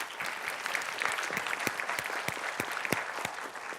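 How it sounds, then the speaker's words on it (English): Audience applause for the panelists at a Hispanic leadership panel during a 2017 HITEC DC leadership summit, dense steady clapping from a seated crowd with sharp individual claps standing out, sustained throughout. "A round of applause for our panelists"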